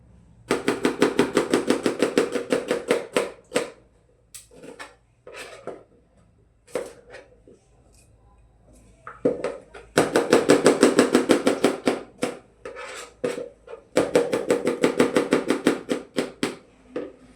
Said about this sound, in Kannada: ಈರುಳ್ಳಿಗೆ ಚಿಕ್ಕದಾಗಿ ಕಟ್ ಮಾಡ್ಕೋಬೇಕು